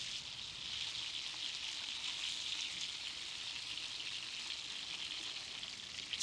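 Monkfish sears in a hot pan, giving a steady, even sizzle of frying oil with no breaks, fairly quiet and close, with no talk.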